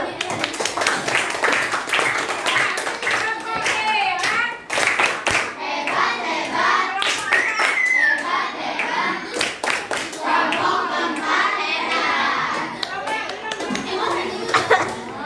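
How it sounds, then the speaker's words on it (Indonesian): Schoolchildren in a classroom clap their hands in bursts of sharp, uneven claps mixed with lively chatter and kids' voices throughout, rising and falling over several seconds. "kasih tepuk tangan dulu."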